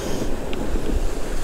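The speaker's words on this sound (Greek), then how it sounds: "Έχει βγάλει πολύ κύμα και είναι πανέμορφα" Sea waves wash against a rocky shore on the Greek island of Samos, a steady loud rush of surf mixed with heavy wind buffeting the microphone, with no clear breaks in the roar.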